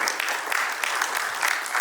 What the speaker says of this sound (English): Let's have a round of applause for all three women